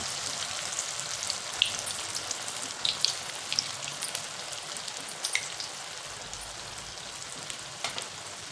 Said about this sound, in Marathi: तेल छान तापलेलं आहे आपण बनवून घेतलेले बॉल्स त्यामध्ये तळून घ्यायचे मिडियम फ्लेमवरती